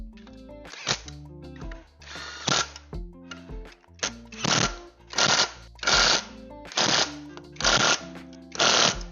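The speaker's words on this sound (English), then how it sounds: "We're gonna give her a good old torque to spec real quick" A torque wrench tightens engine bolts to spec on a Ford Festiva build, producing a series of about eight loud, close ratcheting bursts, each lasting under a second, with brief pauses between them.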